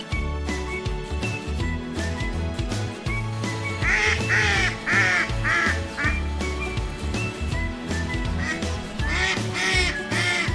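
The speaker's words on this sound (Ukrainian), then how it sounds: "Дикі качки." Wild ducks quack in short clusters of calls, moderately close, with music playing underneath.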